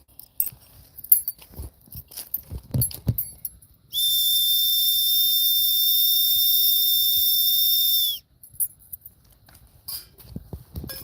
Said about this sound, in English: Big whistle.